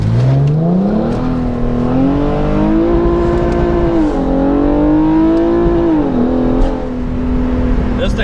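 A custom-tuned BK2 Genesis Coupe 3.8 revs hard in Tiptronic mode, its exhaust note climbing and holding through gear changes, loud and close from inside the car.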